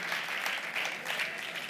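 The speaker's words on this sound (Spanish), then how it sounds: "Un aplaudiment per l'afortunat." Steady applause from a live comedy show audience greeting a participant picked from the crowd, a dense, even roar of many clapping hands at moderate distance, with no speech over it.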